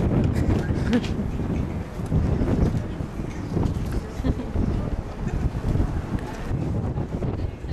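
Outdoor wind buffets a microphone in Prince Albert, Saskatchewan, producing a steady, loud low rumble with gusty swells throughout and no clear pauses.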